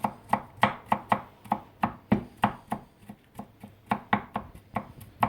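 A knife chops garlic in a wild-rabbit cooking session, striking the board in quick, regular crisp taps that pause briefly midway and then resume, close and clear with no talk.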